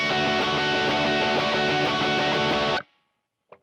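Electric guitar chords with muted strings, played dry with no delay, ring out steadily and loud for nearly three seconds before stopping abruptly, followed by a brief faint knock.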